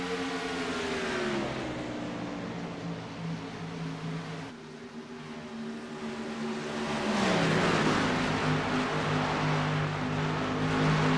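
Race car engines on a track, one car slowed by earlier crash damage, drone loudly and steadily, their pitch dropping and rising again as they pass. No talk is heard.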